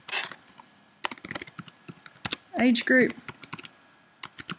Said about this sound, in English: let's type in the athlete name